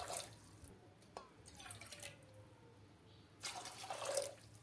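Water poured from a bowl into a pressure cooker holding green peas and potatoes, faint splashing pours in short bursts with quiet pauses between.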